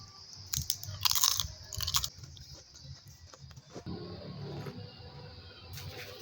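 Close, quiet crunching bites into a crisp cassava cracker, a few sharp crackly snaps early on followed by softer chewing, with no one speaking.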